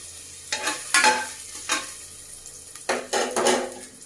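Ginger pieces go into a hot pan for Tamil ven pongal tempering, giving a few short bursts of stirring and frying sizzle with light utensil scrapes, close and moderately loud, separated by quieter gaps.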